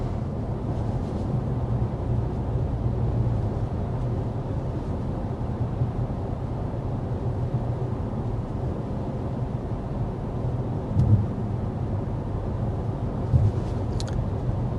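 Steady low road and engine hum inside a BMW X1 cabin while driving in normal drive mode, a continuous even drone with a couple of faint bumps and clicks.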